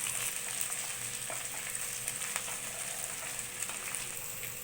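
Two medium capsicums sizzle in a pan over a medium flame for paneer pasta: a soft, even, continuous frying hiss with faint crackles throughout.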